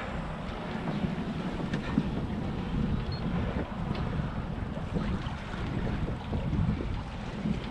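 Sailboat running under spinnaker toward Porquerolles, with constant wind buffeting the microphone and a steady wash of water along the hull, no voices.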